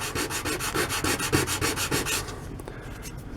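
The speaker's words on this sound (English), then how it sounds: "Sand that down," Sandpaper rubbed back and forth on the flat edge of a small wooden piece for a miniature bench, in about a dozen quick, even, close strokes that stop partway through, leaving quieter handling noise.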